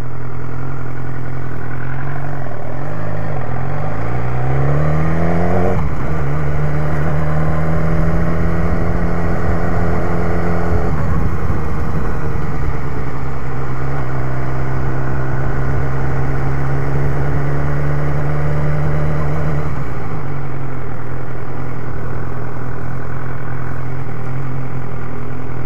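A BMW S1000R motorcycle engine idles loudly and steadily close by, with a few brief revs that rise and settle back to a low, even rumble.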